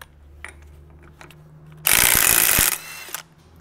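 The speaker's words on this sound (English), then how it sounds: "So what I'm gonna do is I'm gonna take off that nut again." A wrench, likely a power tool, spins a nut off a brake assembly on a mini bike in one loud burst of just under a second, followed by a brief rattle and quiet workshop background.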